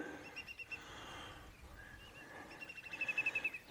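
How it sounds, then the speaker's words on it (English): Birds calling at evening beside the River Camel in Cornwall: faint repeated chirps and short trilling phrases, rising into a quick pulsing series near the end, over quiet ambient background with no talking. "Just hearing the sounds of birds."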